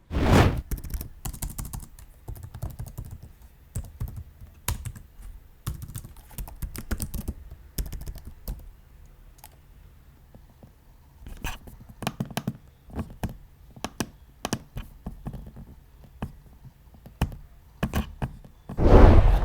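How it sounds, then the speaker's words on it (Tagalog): Keys clatter in uneven bursts on a Lenovo L340 gaming laptop keyboard, mixed with firmer taps and clicks on its trackpad, close up and fairly loud, with brief pauses between runs of typing. "ito yung ating sound test para sa keyboard tsaka trackpad"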